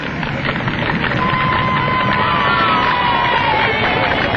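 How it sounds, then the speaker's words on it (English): A crowd cheers aviator Kingsford-Smith and his crew, a loud, steady roar of voices and shouts running throughout, with a faint high tone drifting across the middle. "And now the crowd acclaim the living"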